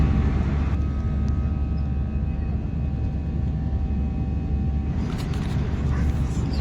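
An airplane cabin in flight, returning from an Andaman trip, fills with a steady, loud engine drone and broadband rumble that holds constant throughout, with a few faint clicks near the end.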